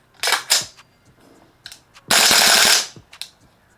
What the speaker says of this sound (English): you end up with dry firing the actual rifle and making sure that everything cycles through